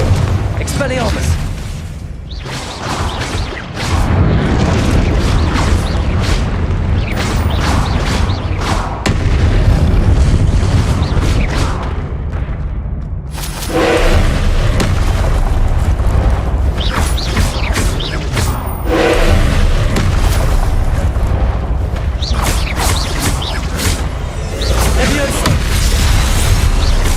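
Spell blasts and explosions in the Hogwarts Legacy video game, booming and crackling repeatedly in dense bursts throughout, loud and close, with a voice shouting spell names over the combat noise.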